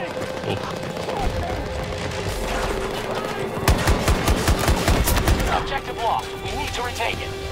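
An automatic shotgun fires in an online first-person shooter as a rapid burst of heavy booming shots, set against steady battle noise and distant gunfire, with game voices and chatter mixed in.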